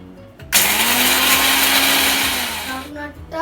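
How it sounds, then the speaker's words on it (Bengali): A mixer grinder whirs loudly as it grinds groundnuts, starting abruptly with a sharp rising whine, running steadily for a couple of seconds, then winding down. "গ্রাউন্ডনাটগুলোকে মিক্সারের মধ্যে"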